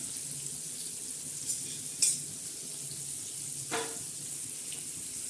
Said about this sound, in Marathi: आपली मच्छी, बांगडा मच्छी तयार होत आहे, तळत आहे खरपूस अशी